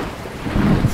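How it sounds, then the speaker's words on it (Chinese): Heavy rain drums steadily on a roof, with a low rumble of thunder swelling in the second half of the short stretch, loud and close. "连雨滴打在房顶都听得那么清楚。"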